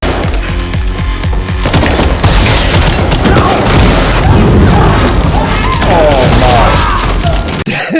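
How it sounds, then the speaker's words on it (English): Booming shotgun blasts from dragon's breath rounds in a John Wick 4 fight scene, loud and continuous with crashes and scattered gunfire layered under a dense movie soundtrack, with some voices mixed in. "the dragon breath shotgun being used"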